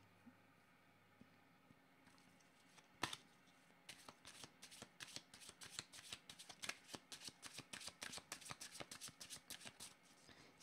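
Tarot cards are shuffled close up in a quiet room: a single sharp riffle comes first, then a long run of quick, rhythmic card flicks and snaps, with no one speaking.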